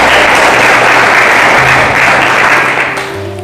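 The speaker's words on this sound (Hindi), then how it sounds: "ताली बजाकर प्रभु की महिमा करें" A church congregation applauds to praise the Lord during a sermon, a dense, steady wash of clapping that holds loud and even, then eases slightly near the end.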